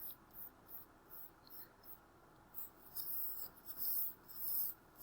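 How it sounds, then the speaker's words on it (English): Eraser rubbing across a classroom board in quick, faint strokes, with soft bursts of scrubbing close by and no talk. "Let me erase."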